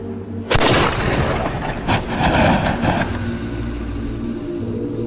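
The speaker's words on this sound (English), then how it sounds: "They will then ignite the second stage charge via the touch hole at the back of the trump, shooting out small stones and shards of metal at the target." A fire trump, a historical firework weapon, fires stones and metal shards with a sudden loud boom that turns into a roaring, crackling rush and then fades.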